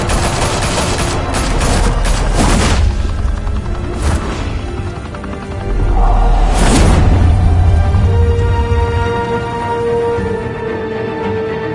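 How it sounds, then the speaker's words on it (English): Heavy gunfire from the video game Batman: The Telltale Series: loud, dense volleys of shots with sharp cracks and booms, a brief lull, then a second sustained barrage, with no talk over it. "Open fire!"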